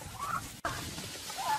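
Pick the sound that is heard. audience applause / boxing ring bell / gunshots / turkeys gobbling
turkeys gobbling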